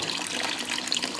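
Tap water runs steadily through a HiFlo RO30G/RO30C reverse-osmosis filter system, a close, even hiss of flowing water with no pauses.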